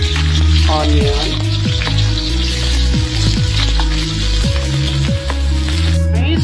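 Garlic and onion fry in oil in a frying pan, a loud close sizzle under a low steady hum with repeated spatula clatters and scrapes throughout.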